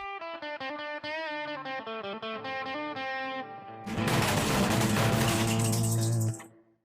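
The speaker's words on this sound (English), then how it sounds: "The Cord Tosser. A fast-firing explosive projectile weapon" The Cord Tosser, a guitar-shaped explosive projectile weapon in the Roblox game Arsenal, plays a run of clear electric-guitar notes and then lets out a harsh, distorted, noisy blast of a few seconds that fades out. No voices.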